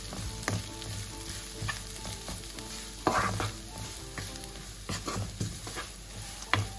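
Plantain skin varai roasting in a pan, with a continuous close sizzle broken by repeated spatula scrapes and knocks against the pan; a voice speaks one brief word.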